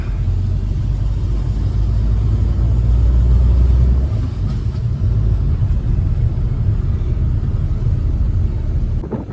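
A car climbing the road up to Thirumalaikovil hill temple, its steady low engine rumble continuous and fairly loud throughout, with a slight lift in revs partway through and no talking.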